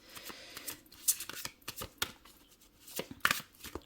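Tarot cards being shuffled close up, with a series of quick, crisp riffling flicks and soft slaps arriving in irregular bursts, quiet and alone with no voice.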